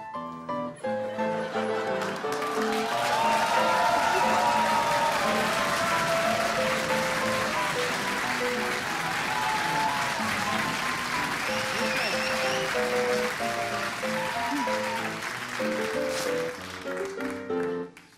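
Sustained applause from a TV studio audience on a German talk show, a dense loud clapping that lasts through the whole stretch, with voices and cheering mixed in before it fades at the end.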